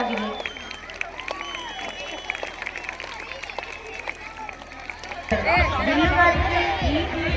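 Outdoor crowd at a children's mallakhamb show breaks into loud, sustained applause and cheering after a stretch of chatter and a voice over a loudspeaker.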